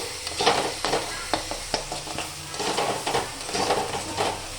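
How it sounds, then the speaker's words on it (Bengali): Two eggs frying in a pan alongside vegetables pushed to one side, a steady close sizzle broken by repeated scraping and stirring strokes from a utensil. "ডিমটাকে ভেজে নিচ্ছি।"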